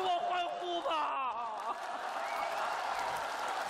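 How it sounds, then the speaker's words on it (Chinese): Neighbours on a residential street cheer and applaud in a comedy sketch. A voice speaks briefly at first, then a steady wash of crowd clapping and cheering fills the rest without a break. "顺风， 给我欢呼吧"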